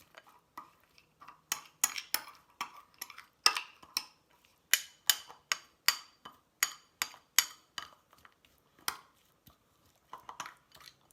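A spoon stirring a thick no-cook breakfast mixture of oats in a bowl, with irregular clinks and scraping taps in uneven bursts, close and clear with no talk.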